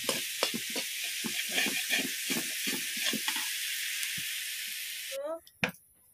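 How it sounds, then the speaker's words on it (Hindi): Garlic and tomato frying in a pan for homemade palak paneer, a steady close sizzle and hiss with clatters of stirring, under a voice talking, ending in a sharp clank. "थोड़ा समय इसको फ्राई करेंगे क्योंकि इसका कच्चा जो स्मेल आता है ना इसका लहसुन का टमाटर का वो स्मेल चला जाए"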